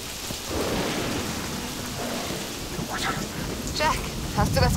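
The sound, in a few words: rain in King Kong video game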